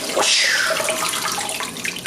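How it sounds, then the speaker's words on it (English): Water swirls and sloshes as a home-brewing vessel is rinsed with a cyclone action, a close, bright rushing wash that gradually settles into lighter splashing. "It's important to rinse with a cyclone action."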